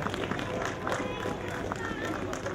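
A crowd claps at the opening of the Łazarski market over dense crowd noise and babble, forming a steady wash of applause.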